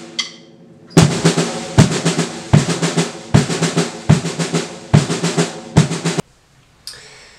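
Single stroke four rudiment on a drum kit, with a kick drum under each quick four-note hand grouping, repeated in even bursts close and loud, and a faint metronome click at the start and end.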